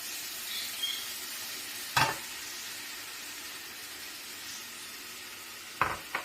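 Pancit noodles stir-frying in oil with hoisin sauce, a soft continuous sizzle under two sharp scraping clatters of a utensil against the pan, with no voices.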